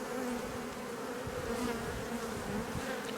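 Honeybees hum steadily on brood comb where young bees are emerging, a close, continuous buzz with a faint droning tone and no voices.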